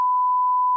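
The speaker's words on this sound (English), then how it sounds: "Get ready for a beep." A steady censor beep, a single pure tone held without a break for under a second, loud and alone with no voices.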